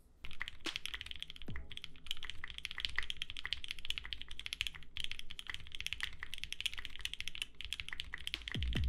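Mechanical keyboard typed on steadily up close, a quiet continuous patter of crisp key clicks and clacks with a few louder thocks near the start and end.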